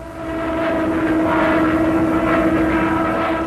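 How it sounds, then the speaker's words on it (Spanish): A Stuka dive bomber flies over Belgium, its propeller engine a loud, steady drone with a sustained tone that stays constant throughout, with no voices. "Stukas, sobre Bélgica."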